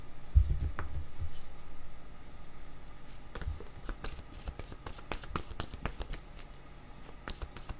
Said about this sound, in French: là, je suis en train de prendre mes cartes.